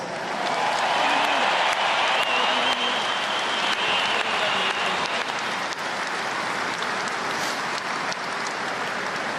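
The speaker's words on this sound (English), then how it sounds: "so you guys deserve a massive round of applause" Sustained crowd applause at the 2018 All-Ireland senior football final between Dublin and Tyrone, a dense, loud, continuous clapping that fills the whole stretch with scattered cheers in it.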